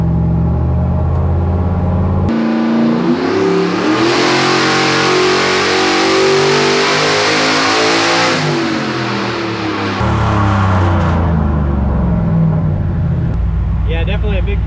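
Turbocharged LS V8 in a Foxbody Mustang on a dyno, run at 8 degrees ignition timing: loud idle, then a sustained full-throttle pull rising in pitch for several seconds before dropping back to a lumpy idle.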